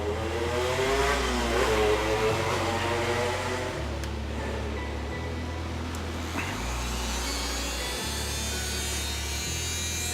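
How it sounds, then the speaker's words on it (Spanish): A small rotary motor tool runs steadily during a grinder repair, a continuous high whine with a stepping, wavering pitch throughout, close and alone. "Aquí está el motor tool."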